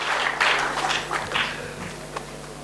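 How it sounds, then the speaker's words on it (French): A church congregation bursts into scattered rounds of clapping and acclaim in short uneven waves, filling the room before easing off into quieter hand claps. "on acclame encore le Seigneur"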